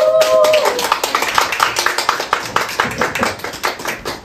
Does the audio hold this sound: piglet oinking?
no